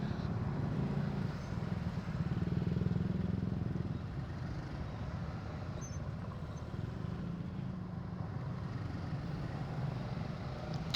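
A steady low rumble of engines in dense, slow-moving road traffic fills the air without a break, heard from inside a vehicle with no talking.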